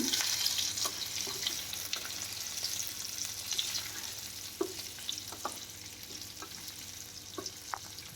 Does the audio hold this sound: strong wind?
no